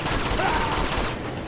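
Dense burst of gunfire in Uncharted 2, rapid overlapping shots forming a continuous loud fusillade for the whole moment, with game noise filling the mix and no clear talk.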